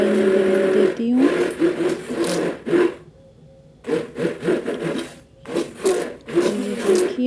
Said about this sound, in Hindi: तो यहाँ पे मैं भिगो रही हूँ मलाई ग्राइंडर से।